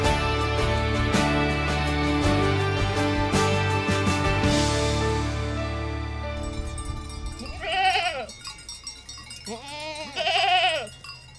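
Goats bleat on a farm in Paraíba, a couple of wavering calls standing out near the end over a steady background of music, loud and close.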